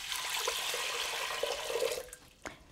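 Water pours steadily into a pressure cooker holding rinsed lentils, a continuous splashing rush that ends with a couple of clanks.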